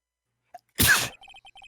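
A game character in Phoenix Wright: Ace Attorney lets out one short, loud sneeze after a tiny blip, followed by a row of quick beeping text-scroll tones.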